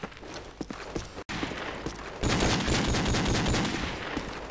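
Gunfire in Call of Duty 4 during a hardcore sniper one-on-one match, fired up into the air; scattered single shots at first, then a dense sustained burst of rapid fire after a brief dropout.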